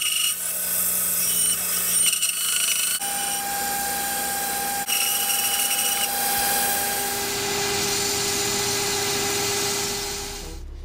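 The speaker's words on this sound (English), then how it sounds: "So let's get over to the sander and make a handle." A sander grinds a small wooden handle for a toy hatchet, with a steady, loud abrasive rasp and a faint whine running without a break for about eleven seconds.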